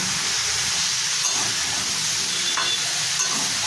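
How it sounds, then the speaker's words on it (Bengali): Papaya pieces seasoned with salt and turmeric frying in a pan give a steady, close sizzle and hiss that runs the whole way through, with occasional stirring scrapes and no talk. "পেঁপেগুলোকে ভেজে নিচ্ছি ভালো করে।"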